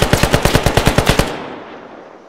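Rapid automatic gunfire from a PM63, a Romanian AK rifle in a video game: a loud burst of about twelve evenly spaced, heavy shots, then a fading echo tail with no talking.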